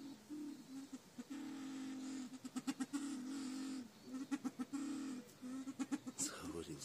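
A bird in a backyard poultry house gives a run of voice-like, talking calls in short bursts and longer tones, close by, with a human voice briefly near the end.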